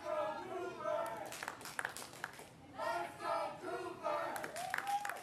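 Wrestling crowd at an indie show cheering for DB Cooper, a fresh dojo graduate; steady roar of voices with scattered claps and shouts, swelling in waves throughout, fairly loud and close.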